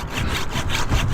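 A handsaw cuts through a limb of a large backyard tree during rigging, rapid rhythmic rasping strokes back and forth, close and steady with no talk.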